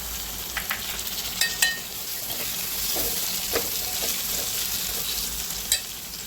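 Frozen peas frying in a pan with homemade garam masala, a steady close sizzle with occasional stirring clinks and scrapes, no talking.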